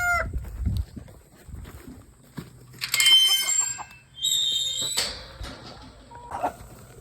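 Hens cluck and squawk close by, with bursts of high calls in the middle and quieter rustling between them.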